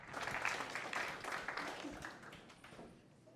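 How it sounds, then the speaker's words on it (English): An audience applauds a speaker introduced for a talk on AI and cloud computing at a machine-learning event, giving a steady round of clapping that swells early and then slowly fades. "Give him a round of applause."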